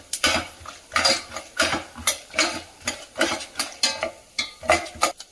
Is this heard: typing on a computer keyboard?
no